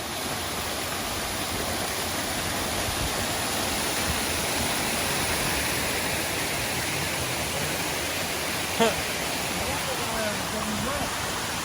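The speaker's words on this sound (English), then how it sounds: "you can hear the falls just down below" A rainforest waterfall leaping over a big drop roars as a dense, steady broadband rush just below, loud and constant throughout.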